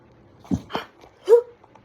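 A dog whimpers and gives a few short yips and a bark in a quiet room, three brief close bursts with the last one loudest and higher-pitched.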